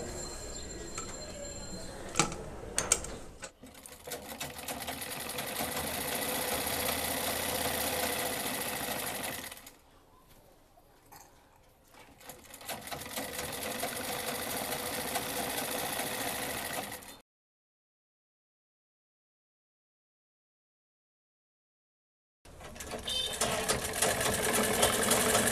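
A sewing machine stitches the side seam of a salwar in long continuous runs, a close steady motor hum and needle chatter broken by a quieter pause and a stretch of full silence before it starts again.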